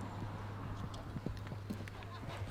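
A show-jumping horse's hooves thud at a steady canter across a competition arena course, faint and distant beneath a low hum and a commentator's voice.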